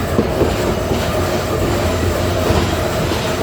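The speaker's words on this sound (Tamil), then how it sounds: "இந்த இடத்துக்கு ட்ரெயின் வந்து வருது பாருங்க" Yal Devi passenger train pulls into Vavuniya station with a loud, steady rumble and clatter of wheels on track, close by and continuous.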